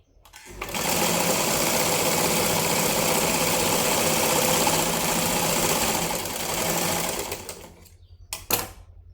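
A sewing machine stitches a lined blouse in one continuous, rapid mechanical run of about seven seconds, then stops; a few soft handling clicks follow in the quiet.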